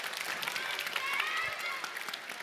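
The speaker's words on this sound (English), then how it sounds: "Big round of applause for you." A crowd at a children's authors event applauds with soft, dense clapping heard from a distance, while a few voices and a thin tone drift faintly underneath.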